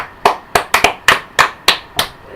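Hand claps ring out one at a time, eight sharp and close, in an uneven rhythm with quiet gaps between them and no voices.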